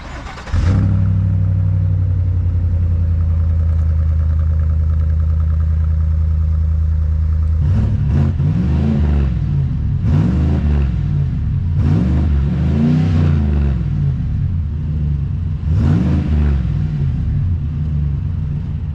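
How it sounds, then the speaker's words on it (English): A truck fitted with a Flowmaster exhaust starts up, then idles with a deep, steady rumble for several seconds before a series of loud, rhythmic revs surge and fall, close by, with no talking. "It is a Flowmaster exhaust."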